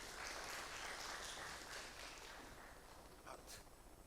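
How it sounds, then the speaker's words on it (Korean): Audience applause greeting a guest lecturer at a special lecture during a summer academic conference, a steady, fairly quiet wash of clapping across the whole stretch that thins slightly toward the end. "큰 박수로 맞이해 주시기 바랍니다"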